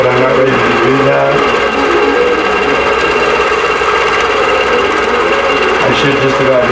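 A longarm quilting machine stitches a spiderweb pantograph pattern across a quilt, giving a steady, loud mechanical whir with a continuous motor hum and rapid needle chatter that runs unbroken throughout.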